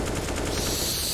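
Rapid automatic gunfire from a Counter-Strike professional esports match, with dense, loud bursts packed into just over a second and no voices over it.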